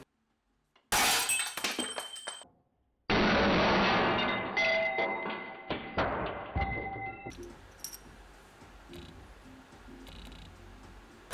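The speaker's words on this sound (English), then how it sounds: "So I put this thing on my hydraulic press to remove the internals" Sprocket internals forced out on a hydraulic press give a sudden loud crack and clatter of metal parts, then a second burst of rattling pieces, settling into scattered ticks and faint clinks.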